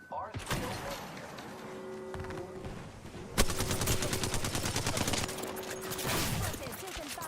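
Video game firefight with rapid bursts of automatic gunfire, loud and dense, intensifying sharply midway and continuing in fast repeated volleys, with a voice speaking over the shooting.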